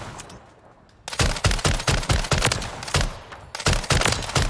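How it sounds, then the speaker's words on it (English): Light machine gun fired in short controlled bursts in Call of Duty: Modern Warfare 3, loud rapid shots in three or four clusters after a brief quiet opening. "See feathering it? You can get very accurate with an LMG."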